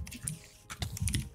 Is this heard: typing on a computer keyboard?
yes